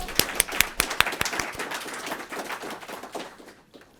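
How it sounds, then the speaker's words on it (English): Applause from a lecture audience at an academic lectureship event, with a few sharp, close claps standing out at first before the clapping thins and fades away over about four seconds. "she definitely deserves a second round of applause"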